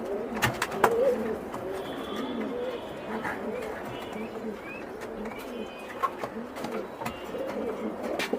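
King pigeons coo steadily in a pigeon seller's loft in Mirpur, Dhaka. The soft, repeated cooing from several birds runs throughout the clip over a low, busy background.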